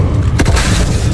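A Levioso spell cast in Hogwarts Legacy lands as a single loud, deep boom near the middle, rising out of a rumbling game background.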